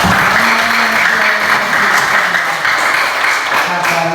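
A classroom group claps together in a loud, continuous round of applause, while a voice speaks over the clapping throughout.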